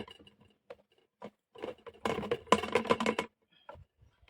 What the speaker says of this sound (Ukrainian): Насипаємо в банку ягоди.